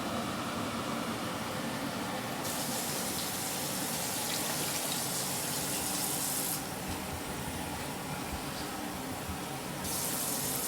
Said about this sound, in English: more water to cover, and coconut milk.